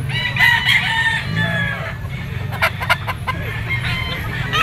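A yellow-legged White Kelso gamecock rooster crows loudly and close by, giving a drawn-out call followed by a few clucks and clicking sounds against low background murmur.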